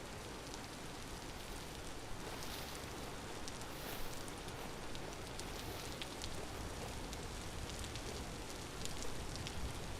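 Steady rain falls outdoors in a dense, even hiss of drops that covers the whole stretch, with no voices over it.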